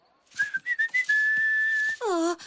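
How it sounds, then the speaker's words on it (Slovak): A cartoon pony whistles while working, a clear, bright melody of short notes, then a long sustained tone and a falling slide at the end, heard close and alone. "Áno, rád si pískam pri práci."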